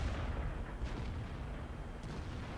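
Tank cannons fire in a World of Tanks battle involving a Type 61. Two muffled, distant shots land about a second apart over a low, rumbling battlefield drone.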